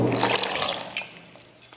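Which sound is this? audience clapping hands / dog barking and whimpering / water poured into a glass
water poured into a glass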